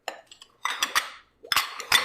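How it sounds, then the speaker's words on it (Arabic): Dishes being washed: plates and cutlery clatter and clink together in several short, close bursts, with brief quiet gaps between them. "أول مهمة غسيل الصحون، أبي أنظفها كلها عشان تصير تلمع"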